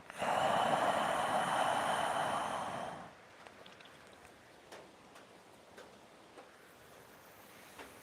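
A long, forceful exhale during a yoga breathing exercise, a loud breathy rush lasting about three seconds, then quiet room tone with faint soft clicks.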